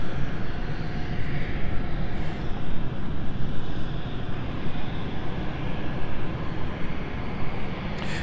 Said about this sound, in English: As we now see the Chambery flight, City Flyer, now taxiing to runway 9er.